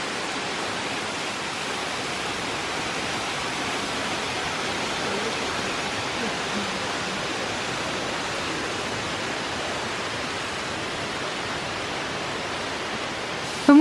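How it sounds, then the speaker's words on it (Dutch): Rushing waterfall heard up close, a loud, steady roar of falling water that holds unchanged throughout, with no voices. "We moeten nu onder de waterval doorlopen."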